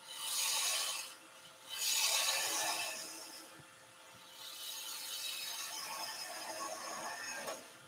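Hand tools shape and round the knee of a wooden fantasy figure, giving close, steady rasping and scraping strokes in several long passes with short gaps between them.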